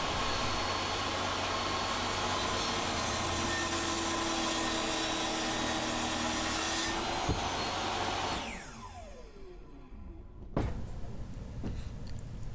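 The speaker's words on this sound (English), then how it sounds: "the most capable saw I have, obviously, is my table saw" A table saw whines steadily as it cuts through wood for a trawler's bowsprit, the blade note holding for several seconds before spinning down, followed by a few knocks and handling sounds.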